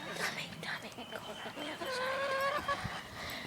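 Chickens clucking near a backyard coop, a few close rising calls over busy outdoor background with talk nearby.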